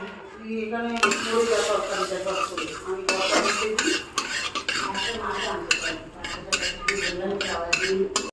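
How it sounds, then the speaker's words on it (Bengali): A spoon clatters and scrapes busily around a hot wok as whole cumin seeds are stirred in melted butter, dense metallic stirring with a faint sizzle underneath, for pav bhaji. "মাখনটা দেওয়ার পরে এখানে দিয়ে দিচ্ছি হচ্ছে একটুখানি গোটা জিরে দিয়ে এটাকে একটু ভালো করে নাড়াতে হবে"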